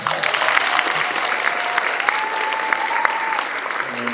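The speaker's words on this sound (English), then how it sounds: "one more round of applause for them" Sustained applause from an audience at an elementary school performance, steady dense clapping throughout with a faint tone running beneath.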